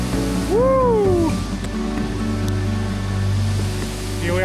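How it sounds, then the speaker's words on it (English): Waitonga Falls, a 39-metre waterfall in Tongariro National Park, produces a steady, loud rushing roar heard close by throughout, with a brief vocal exclamation rising over it early on. "Waitonga Falls, the tallest waterfall in Tongariro National Park, standing tall at 39 meters"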